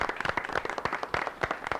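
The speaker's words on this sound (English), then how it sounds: "Give yourselves a good round of applause." Nearby, uneven clapping from a modest group, with distinct individual hand claps that are sharp and close, heard briefly.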